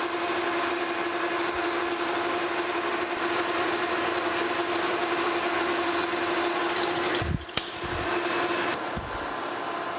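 A metal lathe drills a 3/8 inch hole into a gear blank, giving a steady, continuous motor hum with a constant tone, then a few brief knocks and dips near the end, with no talk.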